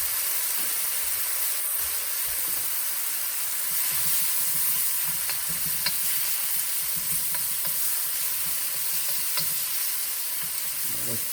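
Diced tomatoes and green chilies sizzle loudly in a hot pan, a dense continuous hiss with occasional stirring scrapes and sharp crackles, no voices over it.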